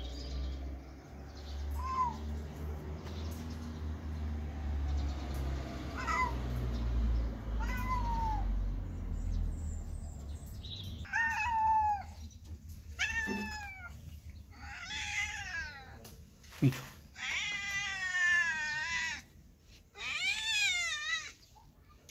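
A small female kitten meows repeatedly, thin high cries spaced a few seconds apart that grow louder and longer toward the end, close by, with a low rumbling background early on.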